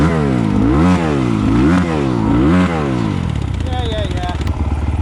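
A 2020 SSR Motorsports SR300 Chinese dirt bike fitted with a Lectron carburetor warms up on a trail loop, its engine rising and falling in repeated revving sweeps before settling into a steady, rattly idle.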